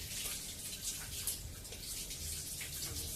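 Water running steadily from a kitchen tap into a pan during washing up, a faint continuous hiss and splash with no talking.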